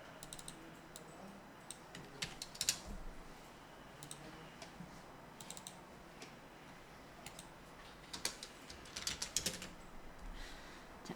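Keys clatter on a computer keyboard as a formula is entered in an Excel spreadsheet, soft scattered taps in irregular bursts ending with an Enter press, close and quiet, without talking.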